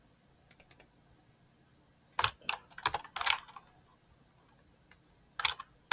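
Bursts of typing on a computer keyboard while working on a digital zero-based budget, close and crisp, short clusters of keystrokes with pauses between them and no talking.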